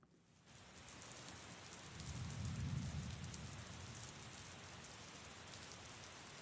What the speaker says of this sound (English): Oh, the sound of rain.